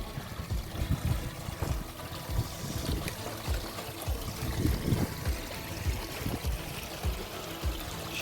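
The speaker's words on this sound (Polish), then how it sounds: "No jednak są strumyczki w Alpach Julijskich." A mountain stream in the Julian Alps flows and gurgles steadily, with water splashing and burbling over rocks throughout, fairly close and continuous.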